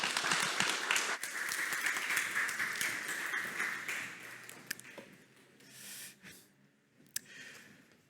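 An audience claps at a pitching competition's global finals, loud and full at first, then thinning over several seconds into a few scattered claps and taps.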